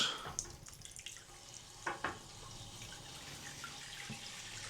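Hot tap running into a hotel bathroom sink on a fifth floor, a faint, steady trickle of water with a few soft knocks and clicks, heard alone.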